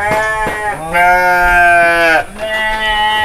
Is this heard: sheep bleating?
yes